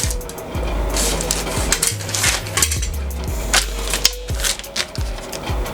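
Scissors cut through the paper draft of a blouse pattern, giving a run of crisp, close snips and rustles at an irregular pace, with no speech.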